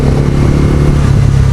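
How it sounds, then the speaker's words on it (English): A 2025 Bajaj NS 400 naked motorcycle rumbles steadily under the rider, its exhaust giving a loud, deep, throbbing note that holds even throughout, close up with no talk. "Exhaust note feels nice."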